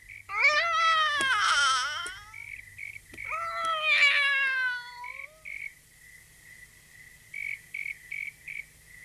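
A cat meows twice in long, drawn-out, wavering cries, the second following after a short pause, set against a steady chorus of crickets chirping in pulses in the background.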